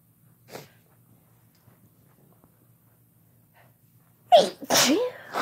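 A person has a sneezing fit: a small sneeze early, then a quiet pause before a loud sharp sneeze followed by another close behind, all near and alone.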